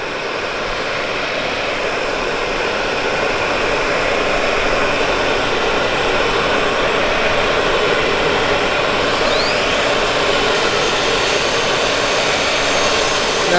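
A heat gun blows steadily on a composite decking board to soften it for bending, a continuous even hiss and whoosh that holds at the same loudness throughout.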